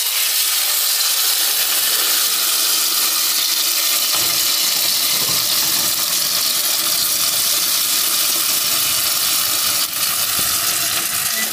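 Tomato sizzles in a hot clay cazuela with a little oil, making a loud, steady frying hiss that runs unbroken from start to finish with no voices.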